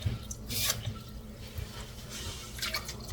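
Water poured for a batch of brown sugar coffee syrup, a steady splashing trickle into a pot or cup with a few bright splashy bursts, close and fairly clear.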